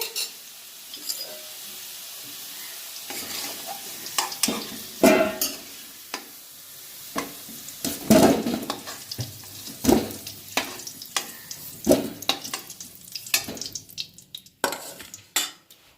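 Turmeric-coated fried potatoes are lifted from hot mustard oil: steady sizzling under frequent scraping and clinking of a metal spoon against the pan, growing busier toward the end.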